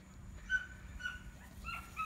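Seven-week-old puppies whimper and yip softly in short, faint bursts over a low background rumble, with no talking.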